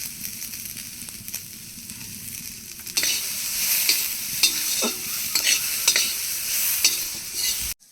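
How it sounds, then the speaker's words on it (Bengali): Ridge gourd peels fry in a pan with salt and turmeric, a soft sizzle rising to a louder crackle as a spatula stirs and scrapes repeatedly, close and alone. "ঝিঙের খোসা ভাজা হয়ে গেছে"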